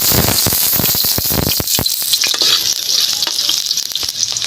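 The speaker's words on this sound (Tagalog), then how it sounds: "Magigisa lang po tayo. Luya at bawang." Ginger and garlic sauté in a pan, giving a loud, steady sizzle with crackling pops and scraping stirring clicks throughout, close up with no voices.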